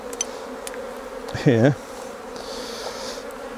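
Honey bees buzz steadily around a damaged hive frame packed with stores during a beekeeping inspection, a close insect drone underneath with one louder bee passing near for a moment.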